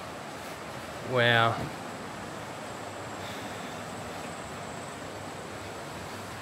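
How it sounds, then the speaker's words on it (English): A river runs near a viewpoint in Sidemen, Bali, as a steady broadband rush of flowing water throughout, with a person briefly speaking over it. "you can hear the river running"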